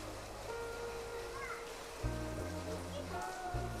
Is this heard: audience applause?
no